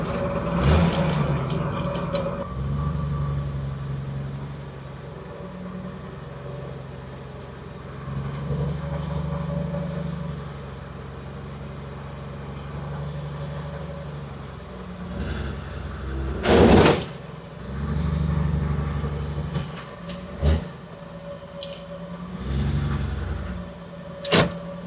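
A truck pulled forward into a shop by a rope hooked to its axle, with a low vehicle drone throughout, mechanical whirs and creaks, and several sharp knocks and clunks toward the end.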